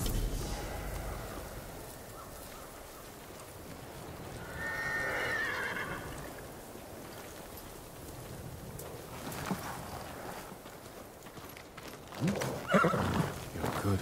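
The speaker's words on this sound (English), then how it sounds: "You're a good horse." A horse in the video game Ghost of Tsushima gives a mid-level whinny over a soft wind-like ambient bed, then hooves and a brief sharper burst follow near the end.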